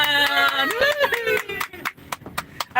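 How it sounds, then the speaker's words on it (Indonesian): A few people clap hands in quick sharp bursts that grow into a run of claps, close and fairly loud, while a voice speaks over the start. "tepuk tangan"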